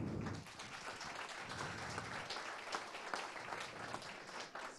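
Applause at a prize-giving ceremony, a dense wash of many hands clapping from a crowd, steady and somewhat distant, lasting throughout.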